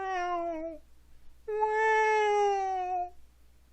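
A cat gives two drawn-out, mournful meows close by, a short one followed after a pause by a longer, wavering cry that trails off, with no other sounds around it.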